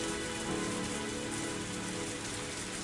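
Steady rain falls in the Higurashi When They Cry video game, an even, dense patter on surfaces, soft and continuous with no voices.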